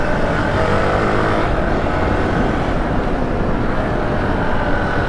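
A Hero Xp motorcycle cruising on small roads at about 80, a steady dense engine and road drone mixed with wind rush, loud and constant with no pauses.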